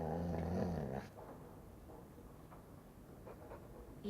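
A low, rumbling dog growl from the game Dragon Age 2 rolls for about a second over game music, then the scene drops to a quiet ambient hum before another sound starts at the end.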